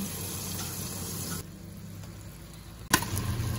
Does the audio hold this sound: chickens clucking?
no